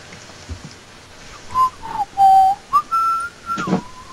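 A person whistles a short, wavering melody of sliding notes with small pauses between phrases, clear and alone in a Minecraft game setting.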